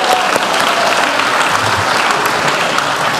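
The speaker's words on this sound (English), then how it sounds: "how about a big, just group, church-wide round of applause" A church-wide crowd at a high school honors night claps together in a steady, dense round of applause that fills the room from start to finish.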